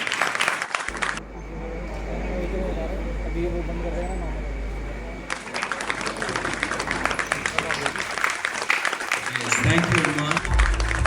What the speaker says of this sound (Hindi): जोर से तालियां हो जाए नंदिनी के लिए for the best student award 2022